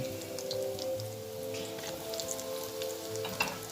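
Cheese balls frying in a pot of oil on medium heat, a soft, steady crackle and bubbling with scattered little pops, heard close but fairly quiet and without talk.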